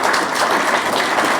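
Applause from the audience at a seminar on the crisis facing Korea's farming and fishing villages, a steady, dense wash of clapping that fills the whole stretch without pause and with no voices over it.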